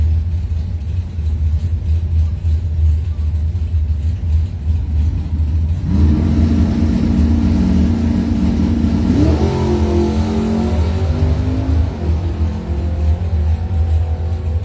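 Pontiac Firebird drag racing car revving at a strip, a loud engine rumble that rises sharply in pitch midway as it accelerates, with no talk over it.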